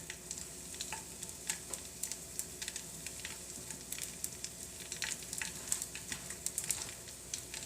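Tofu pieces frying in a pan give a steady, soft hiss with scattered crackles and pops throughout, fairly faint and close, with no talking.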